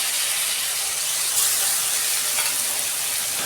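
Ginger-garlic paste lands on onions fried until reddish, setting off a loud, bright sizzle and steamy hiss that runs unbroken from start to finish. It sounds close up, with no voices.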